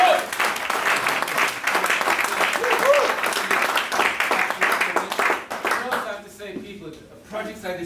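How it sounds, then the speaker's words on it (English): Warm applause from a gathering at a men's walk-and-talk group's end-of-year presentation, a steady close run of clapping with a few cheers mixed in, thinning out and fading toward the end. "I just want to give him a big round of applause."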